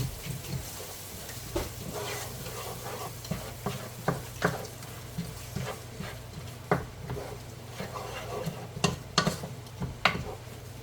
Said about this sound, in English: now we're going to stir this around, mix this together